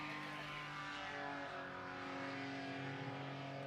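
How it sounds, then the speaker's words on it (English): A paramotor with a Sky engine held at full throttle drones steadily and loudly with a buzzing whine that shifts slightly in pitch as it passes, no voices. "I've not heard him come off throttle yet."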